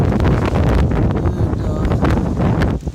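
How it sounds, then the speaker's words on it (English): Strong gusting wind outdoors among tropical fruit trees in Dallas, Texas, roaring into the microphone, loud and continuous with rustling buffets, easing slightly at the very end. "It's really windy."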